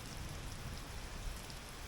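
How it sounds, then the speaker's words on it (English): Heavy rain pours down steadily in a constant dense hiss, with no pauses, during catfish fishing on the Mekong. "rain's coming down pretty hard"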